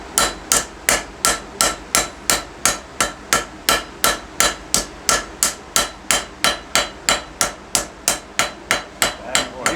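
Hammer striking steel during forging, likely a power hammer, pounding in a fast, perfectly even rhythm of about three blows per second, close and loud with sharp metallic impacts throughout.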